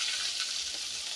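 Rui fish sizzles as it fries in a pan in a village kitchen, a steady hissing crackle held close and continuous throughout, with no talking.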